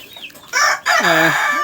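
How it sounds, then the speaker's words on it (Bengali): A silver frizzle rooster clucks close by, a few short calls followed by a louder, drawn-out cackle with falling pitch, with no talking over it. "আমাদের এই যে সিলভার ফ্রিজেল মাশাল্লাহ একটা মোরগ নিয়ে আসছি"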